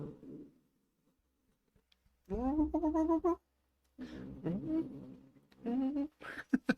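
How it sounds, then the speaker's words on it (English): A cat gives several drawn-out, agitated meows in three separate bursts with quiet gaps between them, fairly close and with no talk over them. "Oh, angry kitty."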